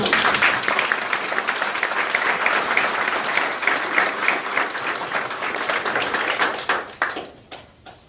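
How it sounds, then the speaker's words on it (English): Sustained loud applause from a large crowd at a sheriff's office memorial ceremony, dense clapping that carries on steadily before tapering off at the end. "Another round of applause for you."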